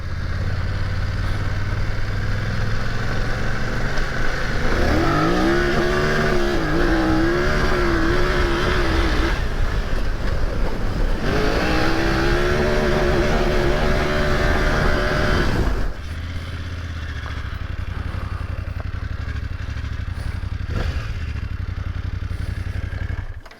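An off-road adventure motorcycle pulls away from a second-gear rolling start, its engine rising in pitch through two climbing revs with a brief easing between them, then dropping to a steady lower drone; loud and close throughout.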